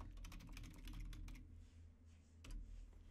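Quick clatter of keys on a computer keyboard as a short phrase is typed, a dense run of clicks followed by a brief pause and a final burst, close and clear over a low steady hum.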